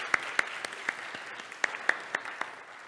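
Sparse applause in a chapel worship service for the chapel chimers, a handful of distinct sharp claps standing out over a softer wash of clapping, fairly quiet and brief.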